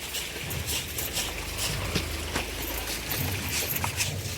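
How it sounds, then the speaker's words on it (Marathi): Water running from a village chamber into a sugarcane field, a steady rushing flow heard throughout at moderate level, with faint bright splashes on top. "चेंबरचं पाणी सोडलंय उसाला"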